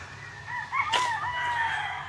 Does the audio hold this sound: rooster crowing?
yes